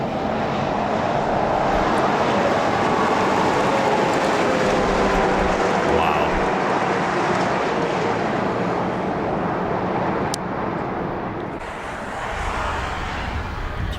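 Australian long-nose road train trucks roll through a busy Outback intersection with a continuous, heavy, broadband roar of engines and tyres that stays loud and near, dipping slightly toward the end.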